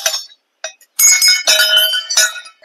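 Bright metallic temple bells ringing at Maa Kantabausuni Temple, Damanjodi, Koraput, in a cluster of clear, overlapping strikes, close and fairly loud, with a short gap before the ringing thickens.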